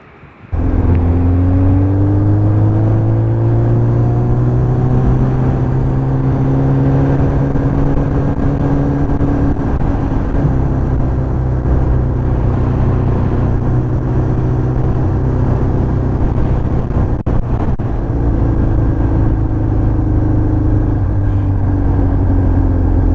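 A 2002 Kawasaki ZX7 sport motorcycle under way, its engine droning steadily and loudly up close with a smooth, sustained note and slight shifts in pitch as it cruises, wind rushing over everything and no talking.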